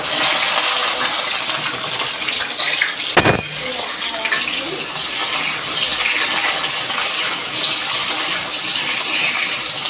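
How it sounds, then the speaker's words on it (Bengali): Pointed gourd (potol) pieces dropped into hot mustard oil set up a loud, steady sizzle and crackle that fills the whole stretch, with a brief sharp splash as they hit the pan. "তো আমি তেলেতে পটলগুলো দিয়ে দেবো।"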